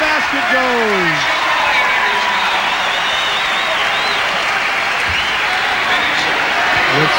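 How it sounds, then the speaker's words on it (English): A basketball arena crowd at an NBA game between the Suns and Spurs cheers and applauds loudly and continuously, with a commentator's voice and whistle-like tones heard over the roar. "that is what the crowd is yelling about"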